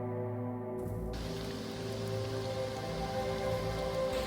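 Steady heavy rain pours down in a dense, continuous hiss, with a low rumble underneath; no voices.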